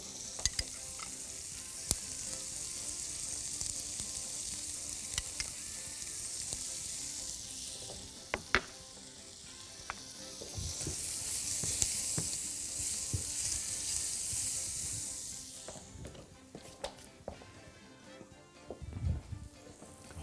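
Shrimp and curry fry in a pan with a steady, close hiss of sizzling oil, punctuated by clinks and scrapes of stirring, easing and swelling again partway through.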